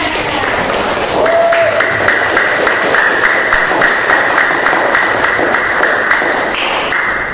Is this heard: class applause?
yes